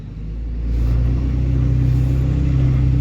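A 2013 Cummins diesel pickup engine with a junked cylinder head and an uncleared check engine light revs under load, its deep steady rumble swelling within the first second and holding loud and close, with the turbo audible and no talk over it.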